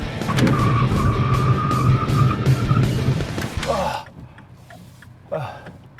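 A loud MINI Paceman engine roars steadily and then brakes hard, with a screeching tire squeal that ends abruptly, followed by quieter ambience and a brief thump.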